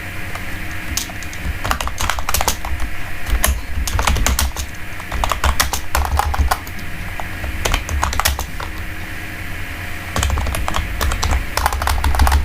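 Fast, close typing on a computer keyboard, dense bursts of key clicks with brief pauses, continuing steadily for about twelve seconds over a faint room hum.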